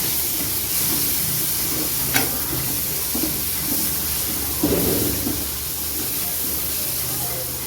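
Onion, ginger and garlic sizzle steadily in hot oil while tempering a hotel-style vegetable kurma, a continuous broadband hiss with a few brief stirring scrapes and faint background voices.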